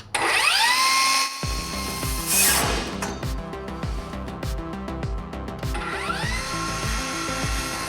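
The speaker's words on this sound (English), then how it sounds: "something about holding that saw overhead like that" A power saw cutting while held overhead during repairs to a navy patrol boat, starting with a loud spin-up whine, then a long stretch of steady, rough cutting noise with repeated bursts, and another spin-up near the end.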